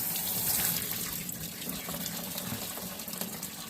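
A rubber seal from a rock tumbler barrel is rinsed under running water, a steady soft gush with light splashing throughout, faint and close.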